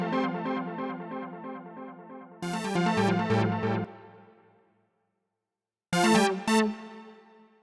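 An analog synth lead in an electro production, bright and shiny with detuned sawtooth and square waves, filter envelopes and echo, plays a melodic phrase of stepping notes with punchy bursts and decaying tails, alone and fairly loud.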